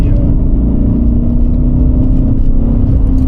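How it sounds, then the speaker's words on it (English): Mercedes-Benz engine droning steadily under hard acceleration from inside the car, a loud low rumble with a rising whine and road noise, unbroken and close. "You can full throttle it on a turn without braking traction."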